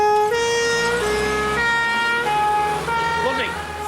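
A loud wailing siren rises and falls nearby, with vehicle engine rumble beneath and some voices mixed in.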